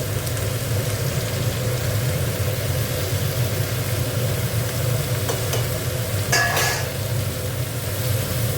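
Cabbage and spinach fry and get stirred in a pan for a vegetarian labra, a steady close sizzle with scraping and a brief clatter near the end, no talking.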